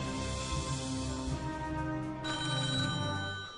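A telephone rings steadily with a sustained electronic tone, loud and close, with no voices.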